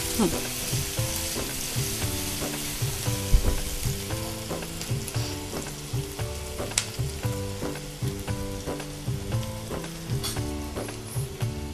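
Finely chopped onion sautés in a hot pan, a continuous sizzle with occasional stirring scrapes. Melodic background music plays steadily underneath and no one speaks.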